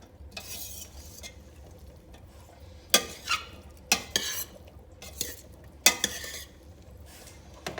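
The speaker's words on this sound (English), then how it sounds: "you want to just mix that all in with everything that's in there" Italian sandwich salad being tossed in a bowl, giving soft stirring and scraping with a few sharper utensil clinks against the dish, spaced irregularly, close and fairly quiet with no talking.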